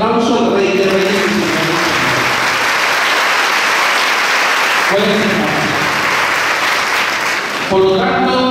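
A congregation at a charismatic church gathering claps together in sustained, dense applause, while a voice is heard briefly at the start and again as the clapping ends.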